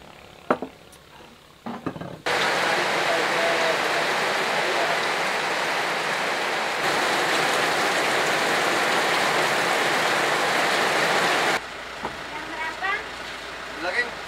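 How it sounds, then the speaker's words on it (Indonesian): Rain pours down hard on Kenawa Island off Sumbawa, a loud, dense, unbroken roar that starts abruptly after a few quieter knocks and runs for about nine seconds before cutting back to softer background sounds. "mendampar di sini menunggu hujan berkesudahan."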